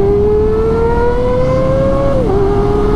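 A loud motorcycle engine revs hard and close, one sustained high whining pitch climbing steadily then dropping sharply as it shifts, with no talking over it.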